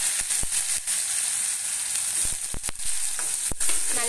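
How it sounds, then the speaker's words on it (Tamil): Ground onion paste sautés in a pan for a spicy prawn thokku, a constant bright sizzle broken by a few scraping stirs of a spoon, close and alone. "நல்லா வதக்கிக்கோங்க."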